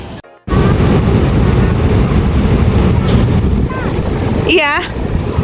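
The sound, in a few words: strong ocean waves at Slili beach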